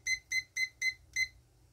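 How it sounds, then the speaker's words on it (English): A kitchen timer being set while pressure canning butter beans gives five short, bright electronic beeps in a steady, quick rhythm, loud and close, followed by quiet. "I love this timer."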